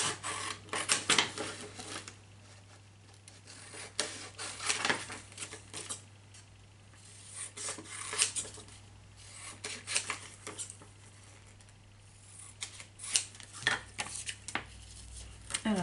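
Scissors cutting a small picture out of paper for an art journal cover: quiet, close snipping and rustling paper in irregular bursts over a faint steady hum.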